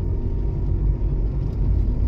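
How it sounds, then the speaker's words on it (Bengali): A motorcycle passes on a road in the Thailand–Myanmar border area, giving a loud, steady, close engine rumble with a deep low-end roar that holds for about two seconds without any voices. "মোটরসাইকেল আসলো"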